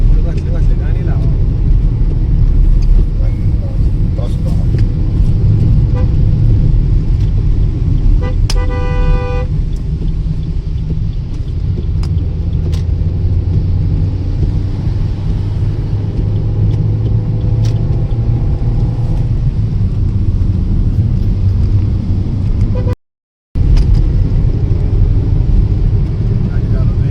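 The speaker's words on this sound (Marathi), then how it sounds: "गाडी चालवतोय" A car drives along a road with a loud, steady engine and road rumble throughout, a brief horn toot partway through, and occasional voices over the noise.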